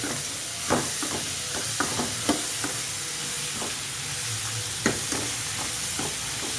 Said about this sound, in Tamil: உப்பு போட்டு கொஞ்சம் நல்லா வதக்கிக்கலாம்